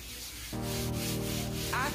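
Norwex Envirosponge with cleaning paste scrubbing sweet and sour sauce off a surface: a steady, close rubbing that starts after a brief quiet moment and continues evenly, loud and alone.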